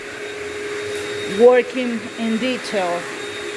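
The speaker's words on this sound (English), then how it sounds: "it's hard work to have a vacuum on your back" A backpack vacuum cleaner drones steadily through house cleaning, a constant motor whine running beneath a voice talking over it for the whole stretch.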